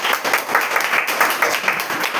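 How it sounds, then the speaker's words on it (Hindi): An audience claps in a steady, dense burst that fills the whole moment, with no voice talking over it. "सब एक बार जोरदार ताली आपके लिए हो जाए।"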